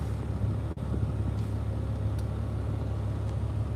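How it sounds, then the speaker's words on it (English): Steady low engine and road rumble inside a truck cab, a continuous droning vibration with a brief dropout partway through, no talking. "Vibration sound, sorry about that. We are in my truck."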